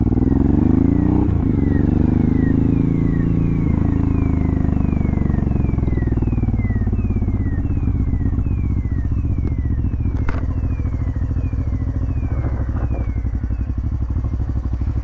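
A Honda Transalp supermoto motorcycle revs up close, its engine note rising and falling through repeated throttle blips, with sharp crackling pops from the exhaust toward the end.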